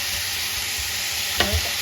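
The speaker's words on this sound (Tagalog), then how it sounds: "igisa lang natin yan hanggang sa mag-brown ng kaunti yung ating sauce" Pork sautéing in sauce in a pan gives a steady broadband sizzle with no talk, and a brief louder spit or stir near the end.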